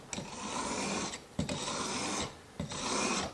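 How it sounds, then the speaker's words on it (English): A chisel is pushed back and forth across a coarse heavy-grit sharpening stone: three long, even rasping strokes with short pauses between them, close and fairly quiet. "this is going to take a lot more honing"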